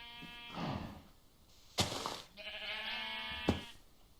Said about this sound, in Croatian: Evo je ovca.